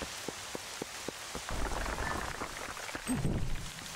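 Rain in the video game The Legend of Zelda: Twilight Princess HD, a steady hiss of falling rain with a few sharp drop-like taps early on and a fuller wash toward the end, heard alone without talk.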